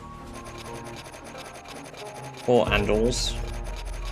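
Scratchy rasping of wood being carved in a video game, a short rough scraping burst rising partway through, close, with a brief spoken remark before it.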